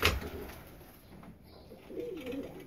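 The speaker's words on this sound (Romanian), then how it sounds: "Da, am venit la porumbei" A faint, low pigeon coo rises near the end after a quiet stretch, soft and slightly distant.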